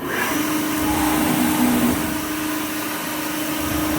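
A CNC milling machine runs a part program, giving a steady, loud mechanical whir with a constant low tonal hum that holds evenly throughout, with no talking.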